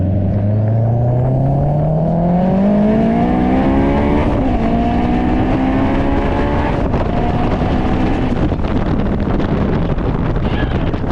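A turbocharged Honda S2000 pulls hard on the street, its engine note rising steadily through first gear, then briefly dipping as it shifts into second and climbs again, loud and close with wind buffeting.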